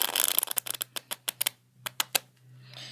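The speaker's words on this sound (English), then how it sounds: "And we'll shuffle it up a little more" A deck of playing cards shuffled by hand during a card trick, a quick riffle burst followed by a rhythmic series of sharp slaps and flicks, close and clear, with a faint low hum beneath.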